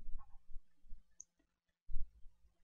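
Computer mouse clicks in the Opera browser, a handful of soft, close clicks spaced irregularly with quiet pauses in between.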